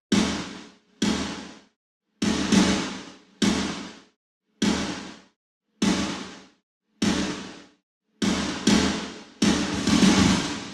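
A saturated snare drum sample strikes about a dozen times in a loose, evenly spaced pattern, each hit sharp and punchy with a short decaying tail, heard alone and close.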